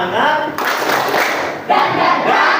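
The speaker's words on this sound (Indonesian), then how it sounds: "kita lakukan tepuk semangat" A group of people do a rhythmic 'tepuk semangat' spirit clap in a classroom, dense and loud, continuing steadily with a brief lull before a strong renewed burst.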